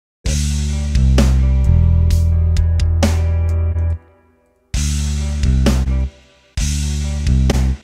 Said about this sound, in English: So I cut all the highs out of the bass